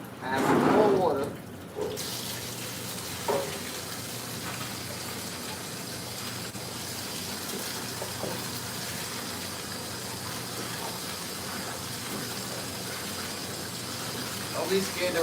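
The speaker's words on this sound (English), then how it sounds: "Add some more water." Kitchen tap water runs steadily into a sink while leafy greens are being washed, a continuous close gushing stream lasting throughout, with a brief louder splash at the start.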